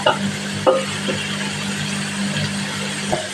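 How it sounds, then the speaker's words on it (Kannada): Carrot and capsicum stir-fry in a hot pan for noodles, giving a continuous loud sizzle with a few scraping stirs and light clanks of the utensil against the pan. "ಫ್ರೈ ಆಗಿದೆ ಸ್ವಲ್ಪ. ಇವಾಗ ಕ್ಯಾರೆಟ್ ಹಾಕ್ತಾ ಇದ್ದೀನಿ. ಕ್ಯಾಪ್ಸಿಕಮ್ಮು ಹಾಕ್ತಾ ಇದ್ದೀನಿ."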